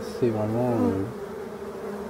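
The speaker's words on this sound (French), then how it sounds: "Ce sont des abeilles noires." Wild black bees from a forest colony rescued from abandoned hives: a steady, close buzzing drone with a wavering pitch, partly overlapped by someone speaking French, then fading to a softer hum.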